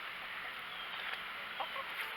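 Hens in a chicken tractor cluck softly in the background, a few faint, brief clucks over a steady hiss of outdoor ambience.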